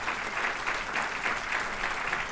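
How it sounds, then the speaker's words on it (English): Brief, fairly quiet audience applause at a civic event honoring a city mayor, an even patter of many hands clapping at a distance. "Give him a big round of applause."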